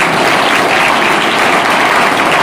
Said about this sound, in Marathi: त्याच्यासाठी त्यांचा आपण जोरदार टाळ्या वाजवून